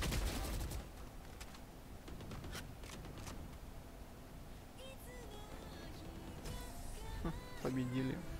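Rapid gunfire bursts from a shooter video game, a mix of single shots and quick volleys over steady game noise and chatter, with people talking throughout.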